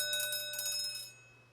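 A small handheld school bell in a shop is shaken in several quick clanging strikes, then its bright metallic tone rings on and fades away.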